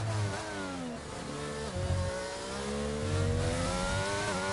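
Formula 1 car in a racing video game at the United States Grand Prix, its engine note sweeping down in stepped pitch as it brakes and downshifts into a corner, loud and continuous with no talk.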